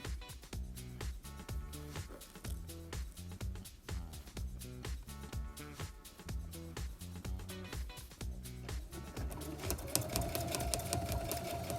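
Brother CS7000i sewing machine sewing a blanket stitch through foam for a cowboy hat, with a J presser foot: a steady rapid mechanical chatter of needle strokes, close and continuous, shifting to a slightly higher whir near the end.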